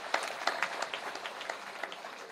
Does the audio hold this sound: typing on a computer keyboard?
no